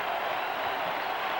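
A stadium crowd at Fenway Park during a 2003 Yankees at Red Sox baseball game, fans on their feet, makes a steady, dense roar that holds even throughout, with no distinct voices standing out.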